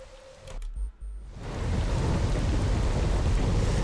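Heavy rain and a rumble of thunder from the S.T.A.L.K.E.R. Call of Pripyat video game start after a brief quieter moment, then settle into a loud, steady, dense downpour.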